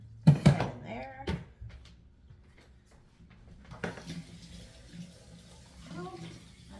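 Hot tap water runs into a container, starting after a couple of loud clunks and knocks, then settling into a soft, continuous splashing flow with faint movement and possible murmured talk nearby.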